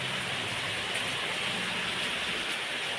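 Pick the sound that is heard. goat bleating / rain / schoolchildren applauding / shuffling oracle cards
rain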